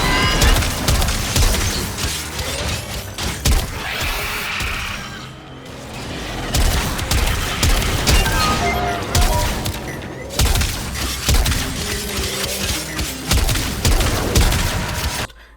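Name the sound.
gunfire shooting the Jackal boss in Warframe video game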